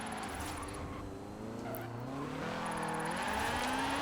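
A front-wheel-drive drift car in Forza Horizon 4 revs hard in second gear, its engine pitch climbing and falling with tire squeal throughout, loud and close.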